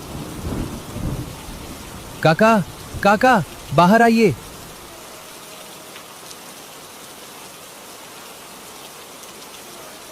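Steady rain falls at night in a village, a continuous hiss that runs through the whole scene while someone calls out briefly near the start.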